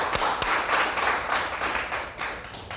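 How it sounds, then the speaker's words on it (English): A crowd at a hip-hop event claps its hands in a dense, sustained wash of applause, with a couple of sharper individual claps standing out near the start. "Yeah, clap your hands."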